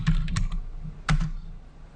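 Keystrokes on a computer keyboard while entering a command in AutoCAD, two short clusters of crisp, close clicks separated by a brief pause.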